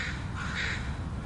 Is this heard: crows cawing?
yes